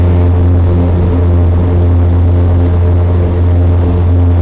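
Twin-engine propeller airplane engines roar at full takeoff power, a loud, steady drone with strong low harmonics holding constant throughout, near and continuous with no talk.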